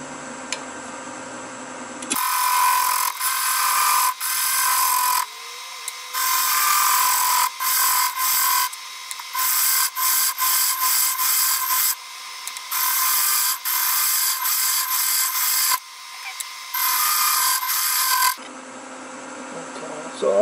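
A wooden segmented bowl with ash pieces spins on a lathe while a round nose scraper works its surface, giving a loud, steady rasping scrape in long passes broken by brief pauses.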